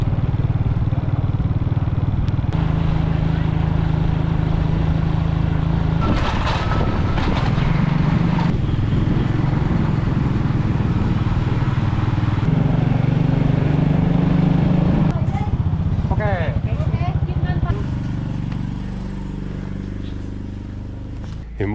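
A motorbike engine drones steadily close by on a road in Vietnam, its low rumble shifting pitch as the rider changes speed, with wind noise and occasional other traffic.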